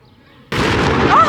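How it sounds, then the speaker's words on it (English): A noon cannon fired from a window of a tower in Zagreb, Croatia, heard from close by: after a quiet moment, a single loud blast erupts suddenly and rings on with a rumbling decay. "every day at noon they fire a cannon from one of these windows up here"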